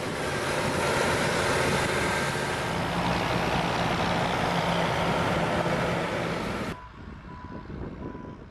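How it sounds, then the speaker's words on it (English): A grader places treated soil onto an airstrip runway and levels it, its heavy diesel engine rumbling loud and steady for several seconds before cutting off abruptly, leaving a faint distant hum. "The grader places the treated soil onto the runway at the specified line and levels."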